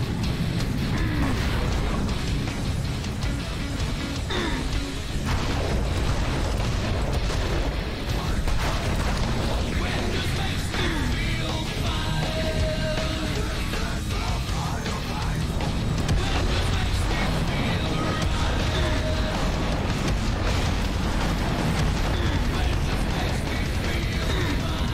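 Booming cannon blasts from a boss in the Serious Sam 3 BFE shooter game, a dense, continuous roar of explosions and rumbling debris that runs loud throughout with no pauses, overlaid by scattered mechanical clanks.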